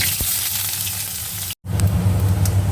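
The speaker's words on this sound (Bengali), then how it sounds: "এবার বেগুনও ভেজে তুলে নেব" Eggplant pieces frying in hot mustard oil make a steady, close sizzle. The sizzle breaks off for a moment, then resumes slightly louder.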